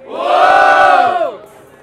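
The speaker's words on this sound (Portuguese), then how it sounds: "Barulho GTA Almirante" A crowd at the Batalha do Tanque rap battle in São Gonçalo erupts in a loud, sustained roar of shouting and cheering lasting over a second, then drops away abruptly to quiet murmuring.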